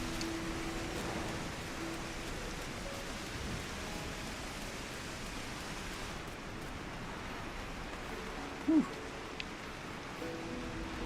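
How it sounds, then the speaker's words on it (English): Steady, even rainfall in Final Fantasy XIV, a dense hiss of drops that holds constant throughout with no pauses and only a brief small blip near the end. "It's getting rainy. It is coming down out here."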